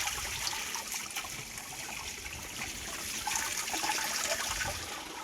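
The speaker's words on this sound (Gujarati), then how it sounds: "પાણી વધારે લીકેજ થાય છે એવું લાગે" Water gushes steadily from a leaking pipe into a paddy field, a continuous broadband rush and splash held at an even level throughout with no talk.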